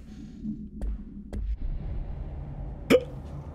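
One sharp hiccup pops out near the end, loud and close, following a few softer low throat clicks over a quiet room background.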